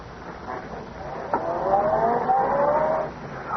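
A car in an old-time radio drama sound effect starts up and pulls away, its engine revving and whining upward in pitch for a couple of seconds before easing off, heard alone at a moderate level.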